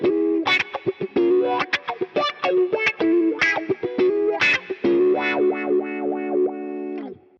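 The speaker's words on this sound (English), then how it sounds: "Let's switch it back to the Vox wah." Distorted electric guitar run through a Boss Katana amp's Vox wah effect, phrases of plucked notes and bends with the filter sweeping up and down, ending on a long sustained chord, loud and close with no talking.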